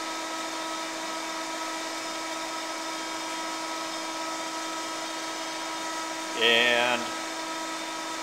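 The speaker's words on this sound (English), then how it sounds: "There's our table and spindle on at the same time." A 24-inch GMN MPS-R600 vertical spindle rotary surface grinder runs with its table and spindle on, giving a steady, even mechanical whine and hum, with a brief louder burst of voice near the end.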